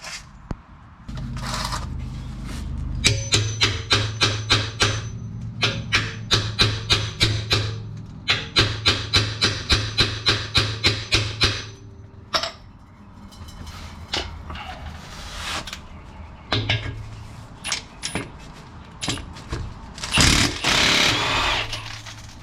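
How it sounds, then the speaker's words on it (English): An impact wrench hammers at a stuck exhaust bolt in loud, rapid bursts. The runs of rattling blows are separated by short pauses, followed by scattered clanks and tool handling. "I'm gonna try an impact on it and see if that breaks it"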